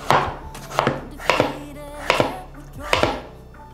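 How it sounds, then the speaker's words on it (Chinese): Knife slicing through a peeled potato half on a cutting board, five crisp close chops spaced roughly evenly apart, each a sharp thud with a brief ring, quiet between strokes. "把马铃薯切片"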